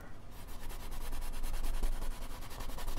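A round paintbrush scrubs paint colours onto a surface while painting a barn scene, giving a steady, close, rhythmic bristly rasp of repeated short strokes throughout.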